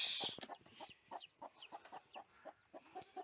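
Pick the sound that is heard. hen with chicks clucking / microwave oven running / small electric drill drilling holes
hen with chicks clucking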